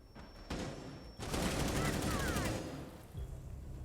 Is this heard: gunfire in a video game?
yes